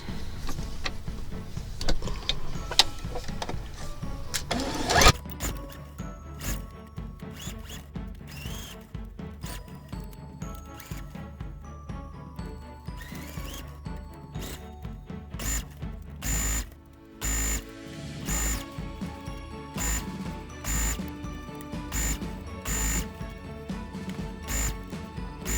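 A sewing machine stitching a bottom seam, running in bursts with rapid mechanical whirring and clicking, close and fairly steady, with brief pauses between runs.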